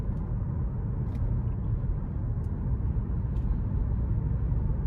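A 2024 Chevrolet Blazer 3LT with a 3.6 V6 and front-wheel drive being driven, a steady low engine and road rumble heard from inside the cabin, no talking.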